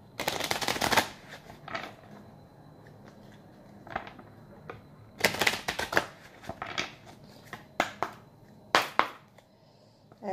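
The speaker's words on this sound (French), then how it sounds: "Je vais tirer quelques cartes avec l'oracle des miroirs." Oracle cards shuffled and drawn in loud riffling bursts, sharp clustered flutters with softer handling in between, close and without talk.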